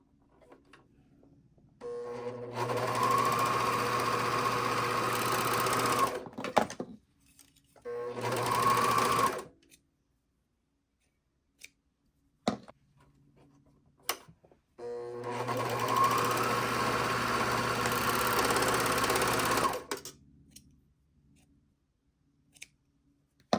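Shoulder seams of a knit tank top run through a sewing machine in three bursts of close, steady stitching, with short gaps filled by faint clicks and handling sounds.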